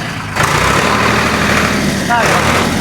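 A steady low rumble from a brand-new tractor idling continuously, with a brief whine near the end and faint background voices.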